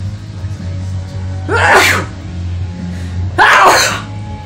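Two sharp sneezes about two seconds apart, loud and close, over a quiet background hum.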